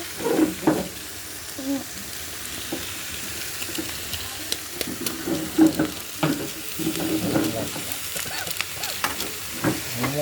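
Veg momo filling being stirred in a pan with momo masala: repeated scraping and tapping strokes over a low sizzle, close and irregular, with faint background sounds.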